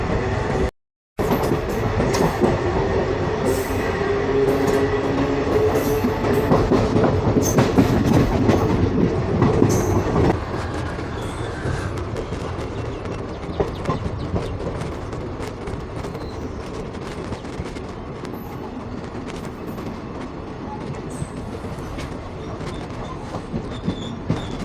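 Passenger train running on rails near Thoothukudi, a loud steady rumble with rhythmic wheel clatter that eases slightly partway through.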